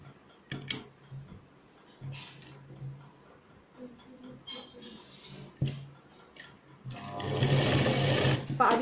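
A sewing machine stitches a salwar in short bursts of rapid rhythmic whirring, separated by pauses and handling clicks, with a longer louder run at the end.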